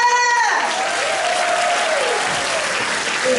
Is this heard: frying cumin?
no